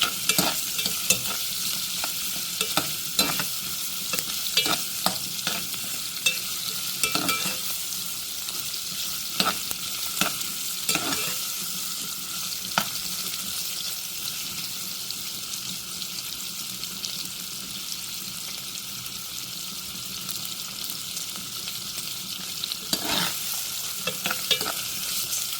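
Garlic sizzles in hot oil in a pan while a utensil scrapes and stirs it, steady close frying with repeated sharp clinks and scrapes at irregular intervals, no talk.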